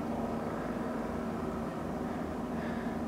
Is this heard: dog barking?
no